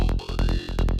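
Midicake ARP contrast arpeggio, a bright psytrance synth pattern of repeated plucky notes with rhythmic, pulsing low-end accents, loud and alone in a steady groove.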